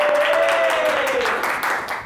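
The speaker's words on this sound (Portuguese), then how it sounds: "vamos aplaudir" Studio audience applause on a Brazilian TV news program, a dense wash of clapping that holds steady and tapers slightly at the end, heard alongside a brief tonal sound.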